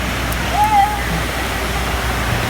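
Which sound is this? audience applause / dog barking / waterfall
waterfall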